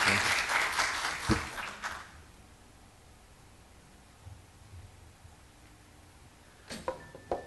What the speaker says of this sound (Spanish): recibamos con un fuerte aplauso a nuestro invitado